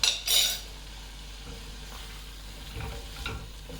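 Prawn mango curry with drumsticks simmering in a pot, opening with a sharp metallic scrape of a spoon against the pan, then a low steady sizzle and bubbling with a few softer stirring clinks, close up and without voices.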